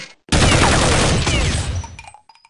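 A dense, loud burst of rapid gunfire in the video game Counter-Strike 1.6 erupts at once and rattles for about two seconds before cutting off, leaving faint electronic tones.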